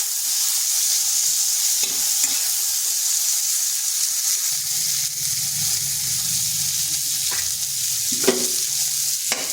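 Cauliflower fries in oil with salt and turmeric in a pan, giving a steady, loud sizzling hiss throughout, with a few light clinks of stirring.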